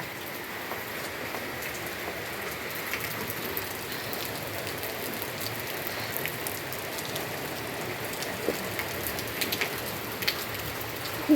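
Steady rain falls outdoors, a dense, even patter of drops that persists throughout with no speech, a few louder drips standing out near the end.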